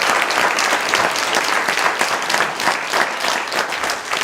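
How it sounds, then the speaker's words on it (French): A theatre audience applauding after a performance of the play Le miroir aux Alouettes, a dense, loud and steady wash of many hands clapping together, with no speech over it. "Nous demandons d'applaudir très fort Jean-Jacques."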